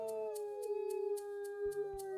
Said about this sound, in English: Many of them are too busy howling before they start running over